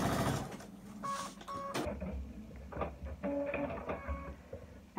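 A sewing machine stitches a quarter-inch seam on a holiday jelly-roll quilt. Quick, faint mechanical whirring and rattling come in short runs, close but quiet.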